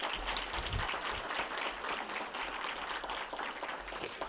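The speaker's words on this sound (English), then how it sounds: "Please applaud yourselves." Faculty and staff at a spring university assembly applaud themselves in a broad, even wave of clapping that fills the hall, loud and continuous with a low rumble underneath and no voices on top.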